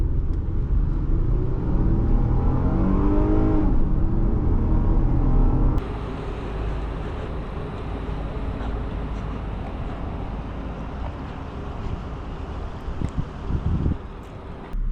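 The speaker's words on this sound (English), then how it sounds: "Today we are driving a 2008 Acura RL" A 2008 Acura RL 3.5 drives along with a steady low engine and road rumble, interior and wind noise changing partway through, heard up close from inside without talk.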